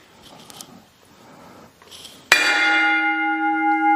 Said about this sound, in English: let's hear that bell again